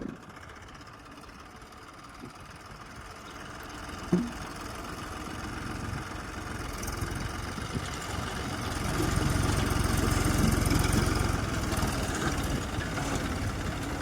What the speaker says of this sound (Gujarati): હાલો આ બીજું ટ્રેક્ટર આવી ગયો.